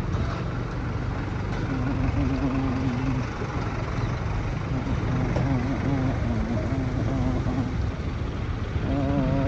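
A scooter is ridden along a road near Damauli, its engine giving a continuous low drone with road and wind rumble. A voice talks over it throughout.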